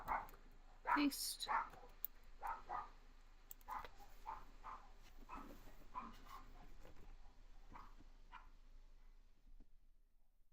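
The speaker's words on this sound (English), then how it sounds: "my dogs are going crazy" Several dogs barking indoors, heard as faint, scattered, muffled barks and yips that come and go under quiet talking.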